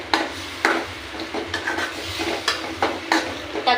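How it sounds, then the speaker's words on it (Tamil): A spoon stirs spices into a tomato and soya chunk gravy in a pan, producing repeated scraping, knocking strokes over a low sizzle, close and fairly loud, with no voices. "இது எல்லாத்தையும் கலக்கிக்கலாம்."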